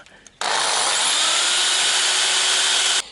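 A power drill bores into a stuck screw on the door of a Traction 11B car. It starts abruptly after brief quiet, then runs as a loud, steady high-pitched whine for about two and a half seconds before cutting off.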